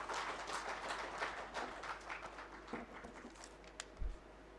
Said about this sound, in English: another round of applause for Dr. Serwanga Jamil